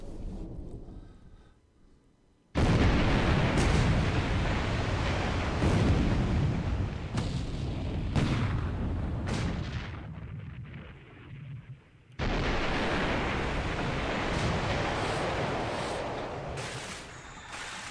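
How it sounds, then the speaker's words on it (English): Repeated heavy booming impacts of 8-inch naval shells striking a ship in a World War II naval strategy game, loud rumbling blasts that fill the clip with a brief lull between hits. "that's 2 8-inch shells that guy took"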